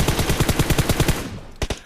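A fully kitted M4 rifle in PUBG Mobile fires a rapid full-auto burst of about a dozen sharp shots, then a brief pause and two more quick shots, loud and close.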